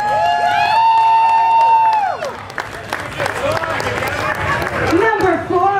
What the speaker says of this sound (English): Let's give Miss KK Chevelle a round of applause